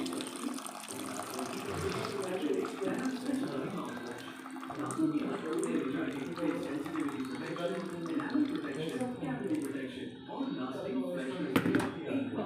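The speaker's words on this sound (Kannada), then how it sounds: "ನೀರು ಹಾಕ್ಕೊಂಡು" Water pours and splashes steadily into a pot for soya and vegetable pulao, with a person talking over the running liquid.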